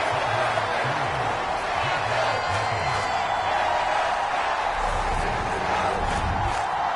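A large football stadium crowd at a Jaguars versus Cowboys preseason game keeps up a steady, dense roar of cheering and noise, with a commentator's voice talking over it.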